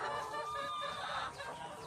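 Chickens cluck and chatter steadily on a Thai egg farm at feeding time, a dense overlapping flock sound that is close and fairly loud throughout, with no talking.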